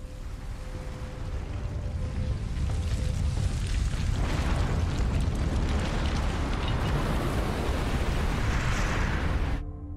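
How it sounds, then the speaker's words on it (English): A skyscraper explodes and collapses in a Daredevil scene: a loud, sustained roaring rumble with crackling debris that swells after a few seconds and runs steadily until cutting off abruptly near the end. "we open with an explosion, with Matt, Daredevil, and Elektra caught in an exploding and collapsing skyscraper"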